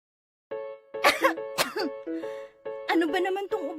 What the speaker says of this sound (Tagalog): Ano ba naman tong ubo na to?